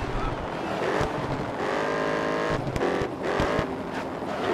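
A race car engine in Grid Autosport roars and climbs in pitch as it accelerates, loud and steady with brief dips at gear changes, someone talking over it.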